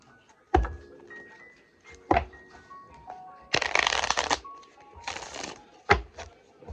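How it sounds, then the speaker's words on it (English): Someone shuffles an oracle card deck themed on emotions, giving several short riffling bursts and two longer dense shuffles, with sharp card taps between them, close and fairly loud. "the Oracle deck. This is a deck about emotions. We gonna shuffle that one up."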